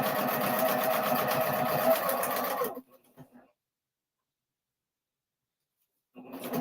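A sewing machine stitching a paper-pieced quilt block runs in a steady close whir for about three seconds, stops, falls to near silence, then starts up again at the very end.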